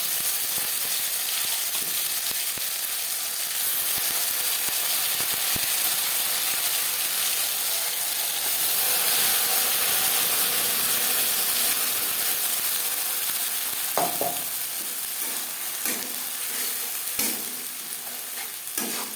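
Garlic sizzles steadily in hot oil in a pan while it is stirred before ghatkol leaf paste goes in, with sharper scraping and clinking stirring strokes in the second half; no voices.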